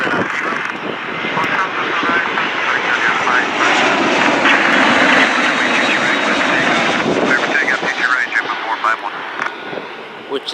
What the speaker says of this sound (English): there's a Han Airlines Boeing 787-8 Dreamliner, which is shorter than the -9